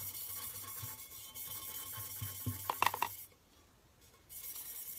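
Soft rubbing and scuffing of fine steel wool on a tumbler cup, steady and faint, with a few brighter metallic scrapes before a brief pause.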